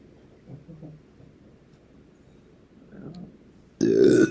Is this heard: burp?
yes